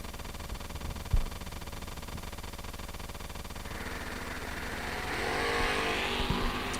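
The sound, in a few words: drag racing cars launching, including an S10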